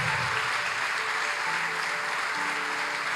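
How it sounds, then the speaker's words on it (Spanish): Congregation applauding during a church sermon, a continuous rush of clapping at moderate loudness with a faint sustained musical tone underneath, no voices rising above it. "Dale un aplauso al Señor."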